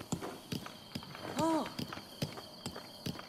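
Horse hooves clip-clopping in a steady galloping rhythm across open ground in Zelda: Breath of the Wild, close and fairly loud, with a brief whinny-like tonal call in the middle and occasional talk over it.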